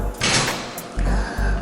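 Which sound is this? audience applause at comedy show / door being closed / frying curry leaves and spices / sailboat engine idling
door being closed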